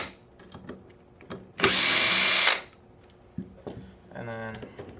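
A power drill backs out receiver screws on a rifle during trigger kit installation, one loud sustained whir of about a second standing out amid quieter clicks and handling noises.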